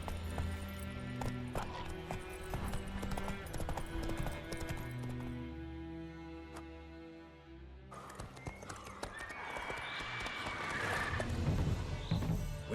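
In The Witcher 3, hooves clip-clop rhythmically in a steady run, with a horse whinny and music playing throughout.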